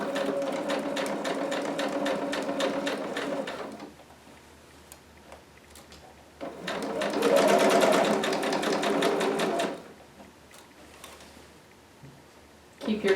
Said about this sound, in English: that is where I want to start sewing